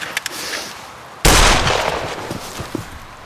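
A single pistol gunshot cracks out loud and sharp after a quiet stretch, its blast tailing off slowly over the following two seconds.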